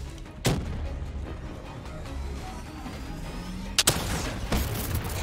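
In the video game Call of Duty Black Ops 3, a giant cannon fires twice as loud booming blasts several seconds apart, over continuous game rumble and background noise.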